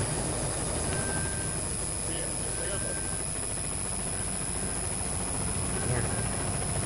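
A ship's helicopter in the video game Cryostasis drones as a steady, loud rotor and engine hum throughout, with a voice talking over it.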